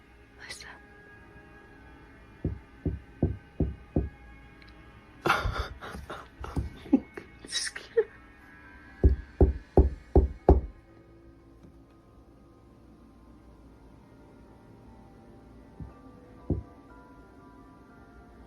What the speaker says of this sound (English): It's fucking knocking that, isn't it?